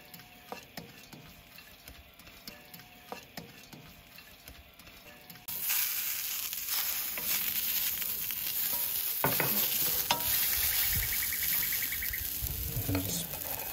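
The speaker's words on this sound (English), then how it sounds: "we're going to toss the green beans in. They have been par cooked already." Par-cooked green beans hit a hot oiled pan at an outdoor braai, bursting into a loud, steady sizzle that carries on after a few quieter clinks and scrapes at the start.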